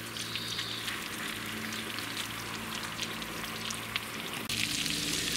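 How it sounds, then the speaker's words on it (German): Minced meat balls fry in a Dutch oven with a steady, dense sizzle and crackle, close and continuous, with a brief stir or shift of the pot near the end and no speech. "also die Bällchen jetzt ringsherum anbraten und wieder aus dem Topf nehmen."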